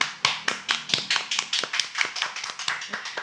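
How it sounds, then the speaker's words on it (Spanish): A small group applauds a guest on a talk program, giving sparse, rhythmic hand claps that are close and sharp, steady for about three seconds with no talk over them. "pido un aplauso para Tanya Jiménez Correa"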